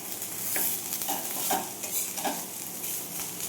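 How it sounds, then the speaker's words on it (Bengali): Banana stem frying in hot oil with dried red chilli and mustard seeds in a pan, a steady close sizzle broken by several scraping stirs of a spatula, with no talking. "এবার থোড় ভাজাটা চাপিয়ে দিয়েছি"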